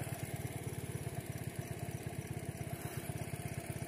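A small motorcycle engine runs steadily with a fast, even putter, close by and fairly quiet, with no voices.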